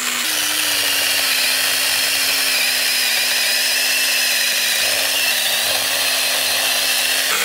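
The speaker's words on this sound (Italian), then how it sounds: "Quello che riesce a fare questa motosega è veramente qualcosa di straordinario." A GT RXE battery-powered mini pruning chainsaw cuts wood, running steadily at a high whine with a constant pitch, loud and close, with no pauses and no talking.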